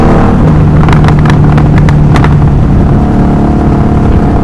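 A loud 1984 Honda Magna 750cc V-twin motorcycle engine rumbles close by, with a few sharp revving pops early on and then a steady, heavy idle under wind noise.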